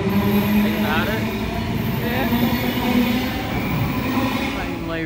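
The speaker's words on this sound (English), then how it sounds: "Now arriving at Beenleigh Station. This train terminates here." A train pulls into Beenleigh railway station in Queensland with a loud, steady rumble of wheels on rails and brief high squeals. An onboard announcement plays over the noise.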